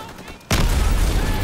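A burst of machine gun fire in Call of Duty WWII erupts suddenly after a brief quiet moment, a loud, dense roar of shots that fills the rest of the moment.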